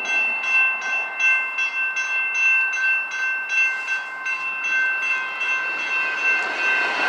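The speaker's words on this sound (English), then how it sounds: "inbound train" An inbound train passes the Mercantile Drive railroad crossing in Rancho Cordova, California, with crossing bells ringing in a steady repeating pattern over the rumble of passing rail cars.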